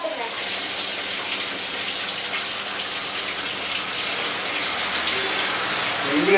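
Panasonic washing machine filling with water, a steady broadband rushing and splashing hiss that holds even and unbroken throughout, close and fairly loud with no talking.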